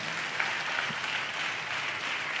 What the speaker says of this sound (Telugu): గట్టిగా చప్పట్లు కొడుతూ స్తోత్రాలు చెప్తాం